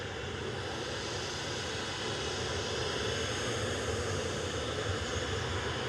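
A jet airliner at Manchester Airport gives off a steady, broad engine roar at moderate distance, holding even throughout with no distinct rise or fade, no talking.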